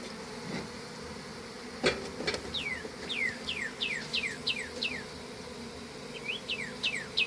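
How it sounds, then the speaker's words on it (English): Bearded bees buzzing around a hive on a Sunday, with faint steady insect hum and repeated short rising-then-falling buzzes as individual bees fly close past, plus a couple of sharp knocks near the start. "It's a good day for the bearded bees, huh?"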